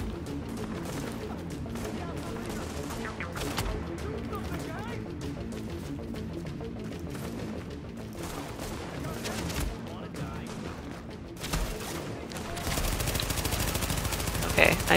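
Rifle gunfire in The Division, rapid bursts of shots and rattling automatic fire mixed with combat noise, continuous and close, with someone talking over it.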